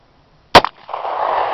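A Bersa Thunder 9 pistol cracks off one loud, close shot, followed by a quick smaller report and a lingering ringing echo. There is no talk.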